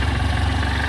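A vehicle engine on a Manali road trip toward Ladakh runs steadily at a loud, close, even idle right after starting, with constant low rumble and no talking.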